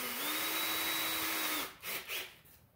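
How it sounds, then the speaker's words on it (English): A Ryobi quarter-inch power drill runs steadily for about a second and a half at one constant pitch while drilling bolt holes in a garage workshop, then cuts off, followed by a couple of short, quieter bursts. "we are going to get out a quarter inch drill and drill some holes for those bolts."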